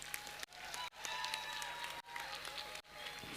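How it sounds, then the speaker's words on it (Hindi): Applause from an audience for young child performers at a preschool annual day function, a dense wash of clapping that runs throughout with a few brief dips. "सबसे पहले तो हमारे इन प्यारे परफॉर्मर्स के लिए जोरदार तालियां हो जाए"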